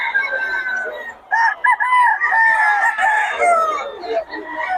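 A Boston Roundhead gamefowl rooster at a Bocaue market crows loudly and close, a long drawn-out cock-a-doodle-doo with warbling breaks and a trailing end.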